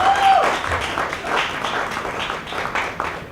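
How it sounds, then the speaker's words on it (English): An audience at a spring school luncheon and celebration applauds the parents, a short burst of dense indoor clapping that is loudest at the start and then tapers off slightly. "Give yourselves a round of applause."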